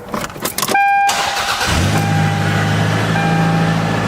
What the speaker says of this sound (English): while applying pressure, you want to turn on your engine